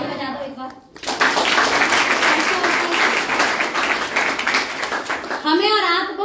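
An audience at a company success meeting bursts into loud, dense clapping that carries on for several seconds, with a speaking voice briefly heard before and after the applause.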